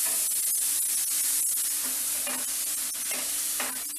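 A sizzling hiss with crackling and stirring as hot milk is poured into roasted semolina in a pan, steady and close, no talking.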